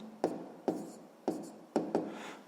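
Someone writes numbers for a sixth-grade math exercise, with five short, close scratchy strokes of pen or pencil on paper, quiet and evenly spaced, and no talk.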